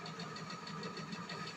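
A car engine in the video game GTA V runs at a steady idle, a continuous close rumble with a faint knocking pulse and no voices over it.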